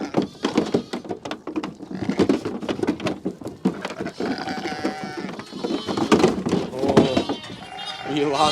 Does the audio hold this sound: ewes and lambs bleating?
yes